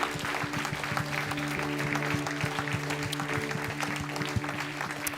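A church congregation claps steadily and enthusiastically, a dense continuous applause with scattered cheers and a faint sustained organ or keyboard chord underneath.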